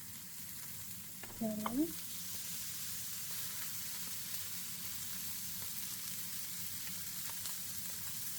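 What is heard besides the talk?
steak sizzling as it is placed in a hot frying pan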